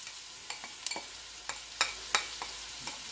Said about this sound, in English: We're going to go ahead and saute the onion just a little bit.